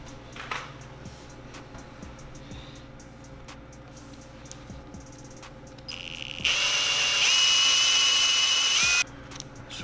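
A power drill with a bit for a 10 mm tap whines steadily for about three seconds over a background hum, loud and close, with no talk.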